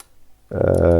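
A computer keyboard is typed on as a file name is entered: near silence, then a quick burst of clicking keystrokes in the second half.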